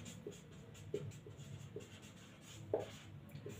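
Faint scratching strokes as the word Jamshedpur is written on a board, a series of soft, irregular marks over a low background hum, close but quiet and free of talk.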